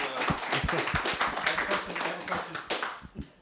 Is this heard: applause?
yes